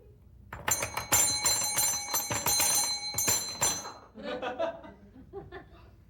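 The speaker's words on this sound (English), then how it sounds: "Why did you ring that bell?" A bell rung repeatedly in a comedy sketch about irritating people, bright clanging strikes with ringing overtones for several seconds, then quieter scattered sounds with faint voices.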